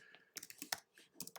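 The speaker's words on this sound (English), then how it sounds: "And you could type in Miniq2." Typing on a computer keyboard, with a quick, uneven run of close, faint clicks and key taps in short bursts.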